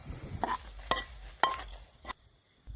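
Green chilli and curry leaf tempering poured into a varutharacha tomato curry, a few sharp sizzling bursts with clinks of a pan and spoon, close and fairly quiet, no talking.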